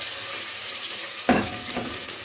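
Ginger and garlic paste hitting a hot pan for a chicken korma, a sudden loud sizzle that bursts in partway through and then settles into a steady frying hiss.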